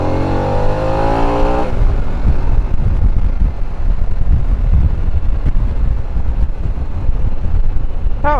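A 2022 Harley-Davidson Pan America adventure motorcycle revs hard and climbs through its engine note for under two seconds, then the sound gives way to loud, steady wind roar against the microphone.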